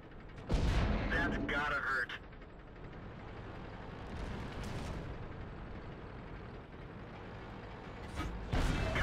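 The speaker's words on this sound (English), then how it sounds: "He then goes for the enemy artillery and gets it in 2 shots." Tank cannon fire in a World of Tanks battle against enemy artillery: two heavy booming shots, one near the start and one near the end, with mechanical rumble and a narrating voice between them.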